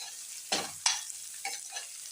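Ridge gourd pieces being stirred in a pan, with two quick scraping sweeps of the spoon followed by softer stirring over a gentle sizzle.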